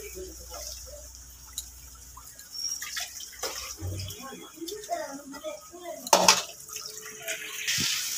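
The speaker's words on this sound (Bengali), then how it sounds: "মোছাটা সিদ্ধ হয়ে গেছে, এবার ঝুড়ির মধ্যে ঢেলে নেব।" Boiled banana flower and its cooking water are tipped into a basket strainer, giving uneven splashing and trickling that swells and fades, with a voice talking over it nearby.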